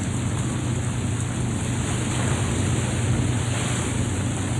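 Storm-driven sea waves surge and crash around a small boat, a loud, unbroken roar of surf mixed with heavy wind buffeting the microphone throughout.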